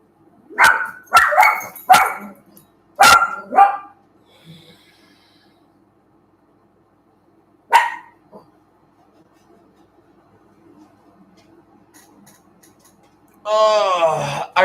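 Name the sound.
dogs barking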